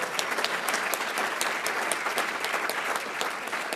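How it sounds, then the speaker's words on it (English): Luncheon audience at a Rotary scholars event applauding a senior counselor, steady dense clapping from a roomful of people throughout, moderately loud with no talk over it. "big round of applause because I'm going to hear about it"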